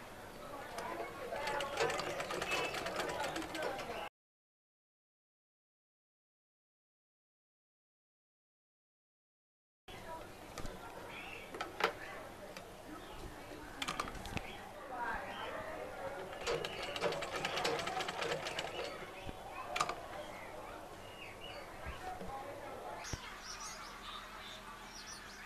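A sewing machine stitches a neck design on fabric, running in a steady rapid whir with brief pauses, fairly quiet, and a gap of silence partway through.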